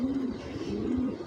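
A club racing pigeon coos softly and steadily up close, a low throaty burbling call rolling on through the moment with no talking.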